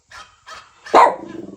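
A dog gives a single short, sharp bark after a few soft vocal sounds, close and alone, ending in a brief rattling tail.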